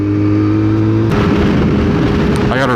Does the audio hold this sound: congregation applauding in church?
no